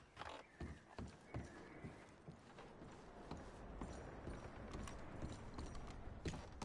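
Horses' hooves clip-clopping faintly on the ground in the video game Red Dead Redemption 2, irregular steps with creaking tack and gear in a quiet outdoor scene.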